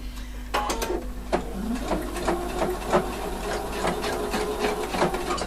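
A sewing machine stitching a fabric facing, a close, steady mechanical chatter with light irregular clicks and taps running throughout.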